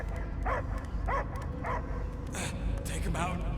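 A dog in the Guardians of the Galaxy video game barks in several short, evenly spaced yips, moderately close over a low rumbling backdrop, with a couple of higher cries toward the end.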